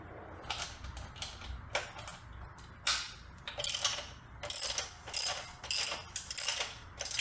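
A part on a Honda Grom motorcycle clutch is loosened, giving close, bursts of metallic clicking and ratcheting, irregular and spaced, with brief pauses between clusters of sharp mechanical taps.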